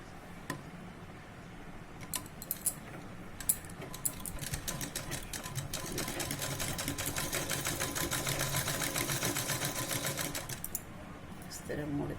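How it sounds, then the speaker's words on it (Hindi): Sewing machine stitching a princess cut blouse sleeve, a fast steady mechanical chatter running for several seconds after a few scattered clicks, close and moderately loud, with speech nearby. "इसको ऊपर से एक स्टिच चला दीजिए"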